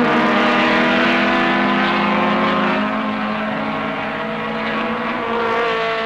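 A Ford Mustang and a Porsche in a 1968 British Saloon Car Championship race roar past at speed, engines loud and close, the blare sliding downward in pitch as they pass and fade slightly.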